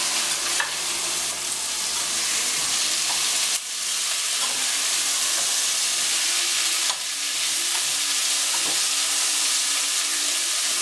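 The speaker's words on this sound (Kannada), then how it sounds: "ಸ್ವಲ್ಪ ಆಯಿಲಲ್ಲೇ ಫ್ರೈ ಆಗಲಿ." Beetroot masala frying in oil in a pan, a steady loud sizzle with stirring scrapes and a few sharp clatters, no talking.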